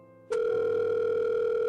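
Phone call in the video game The Letter: after a brief quiet moment a steady, loud electronic ringback tone starts and holds without a break.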